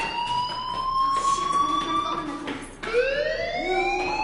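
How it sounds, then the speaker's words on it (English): A school fire alarm in the Life Is Strange video game blares as steady electronic tones that keep repeating, with a short dip near the end before it starts again. Faint in-game background noise sits beneath it. "do you hear that fire alarm?"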